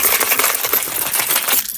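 A set of keys scraped across a waterproof floor filled with limestone, giving a bright, close metallic jingle and scratch that lasts under two seconds.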